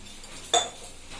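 A metal lid set onto a pressure cooker with potato, onion, tomato and water for Karwar-style bhendi saar, heard as a single sharp metallic clink close by, otherwise quiet.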